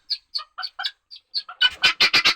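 Chickens, guinea fowl and turkeys in a backyard coop give a string of short chirps and clucks, then a louder burst of rapid squawking calls at the end, nearby with no talk.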